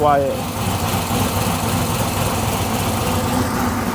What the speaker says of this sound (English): The engine is ridiculously quiet, bro. Like no ticking